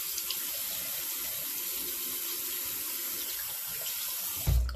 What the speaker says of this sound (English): we'll just give it a quick rinse